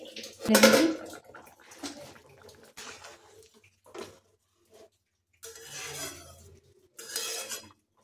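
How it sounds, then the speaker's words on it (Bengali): Hot water is poured into a pan of sautéed potatoes for boiling, with a brief splash and hiss followed by softer stirring and clinks of utensils in a kitchen, in short separate bursts. "আলুটা কষানো হলে এর মধ্যে দিয়ে দিচ্ছি গরম জল। এখন কিছুক্ষণের জন্য এটা ফুটতে দিচ্ছি।"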